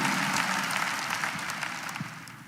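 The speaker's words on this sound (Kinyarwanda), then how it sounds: "Those who are sent by Jesus clap for him." Church congregation clapping in praise of Jesus, a dense, steady applause from many hands filling the room throughout.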